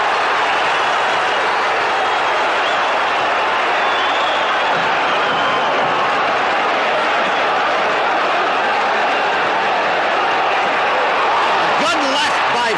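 A boxing arena crowd at a 1976 heavyweight bout between George Foreman and Joe Frazier roars loudly and continuously throughout. A commentator's voice runs over the dense, steady roar.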